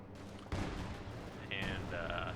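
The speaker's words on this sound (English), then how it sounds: "So nice artillery barrage right on top of that artillery gun." Artillery barrage in the World War II strategy game Company of Heroes 2: a dense, rumbling wall of explosions and gunfire that surges suddenly and stays loud throughout, with a faint voice in the mix.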